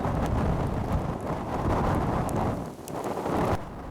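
Violent tornado winds gusting to around 65–70 mph buffet the microphone outdoors, a loud, continuous roaring rush that swells and briefly dips, with no speech.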